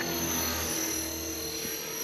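An entry-level flybarless RC helicopter flies nearby, its rotor and motor making a steady loud whine and buzz for two seconds with no talking.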